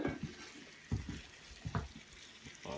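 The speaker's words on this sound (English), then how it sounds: "Sizzling pretty good there." Food sizzles in a cast iron pan on a cabin stove: a soft, steady frying hiss broken by a few louder knocks and scrapes as it is turned.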